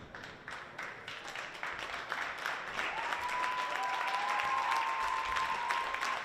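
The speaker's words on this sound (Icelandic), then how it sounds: "Þórstrákarnir hérna klappa fyrir foreldrum og öðrum stuðningsmönnum sem gerðu þessi ferð hérna í Seljaskólann." Youth basketball players clap for parents and supporters in a school gym after an Icelandic youth championship final, steady applause filling the hall, with a faint sustained whistle-like tone partway through.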